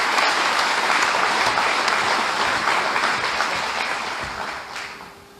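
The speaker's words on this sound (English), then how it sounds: "Clap for yourself, seniors." High school seniors at a graduation ceremony clap for themselves, a loud, dense burst of crowd applause that holds strong before gradually fading away over the final seconds.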